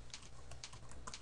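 Keys tap on a computer keyboard as a table name is typed into a database tool; a quick run of soft, close keystrokes sounds over a steady background hiss, with no voice.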